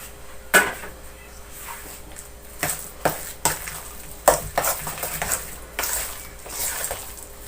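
Potato bread filling gets stirred in a pan, a spoon scraping and clinking against the metal in irregular sharp strokes, close and moderately loud over a quiet background.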